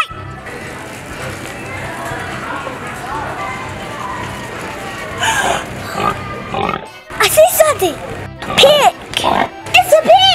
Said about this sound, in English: Pig! It's a pig!